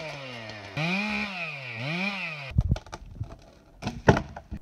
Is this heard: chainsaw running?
yes